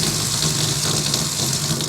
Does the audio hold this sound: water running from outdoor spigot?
yes